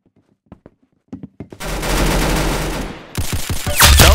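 Gunfire in the Roblox Arsenal game: a handful of sparse sharp pops, then a loud sustained rapid-fire burst that tails off, followed by more heavy close shots ending in a loud blast, with no speech.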